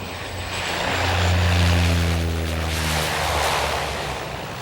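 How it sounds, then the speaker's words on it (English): Loud, steady propeller-engine roar of a de Havilland Otter floatplane landing on a short makeshift tundra strip, swelling as the prop pitch reverses to brake, then holding a sustained drone with a wind-like wash over the whole span. "The otter reverses the pitch on its prop so it can stop on the short makeshift landing strips on the tundra."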